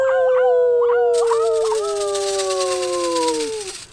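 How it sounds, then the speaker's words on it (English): A wolf-like howl rises and holds in long wavering tones, preceded by short yips, loud and close with a hiss of noise entering partway through. "along came, dun dun dun, the big bad wolf"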